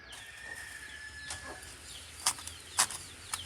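A few short, sharp hen calls ring out over a quiet farmyard, spaced irregularly, moderately close and alone without talk.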